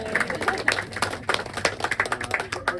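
Applause from an audience at a poetry reading, many hands clapping in a dense, steady patter for a few seconds, fairly close and lively.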